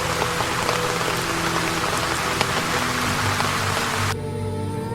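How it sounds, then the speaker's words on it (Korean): A dense, loud rain sound effect for a spoken horror story, rain starting to fall outside a restaurant window, with a continuous close hiss of drops that drops abruptly in level near the end. "창밖에는 비가 내리기 시작했다"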